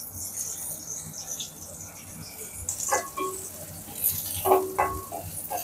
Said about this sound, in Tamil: பூண்டு, அப்புறம் இஞ்சி இதெல்லாம் போட்டு வதக்குவோம்.